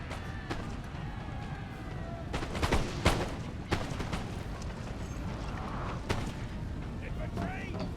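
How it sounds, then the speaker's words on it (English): Artillery and gunfire from the opponent in the Napoleon Total War battle game, repeated booms and cracks scattered over a steady battlefield din, with someone speaking over it. "Here we have opponent's artillery."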